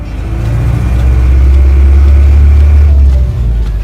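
Cars queue at the Chile–Argentina border crossing near Trevelin, a steady close engine rumble droning low and loud throughout with no talk over it.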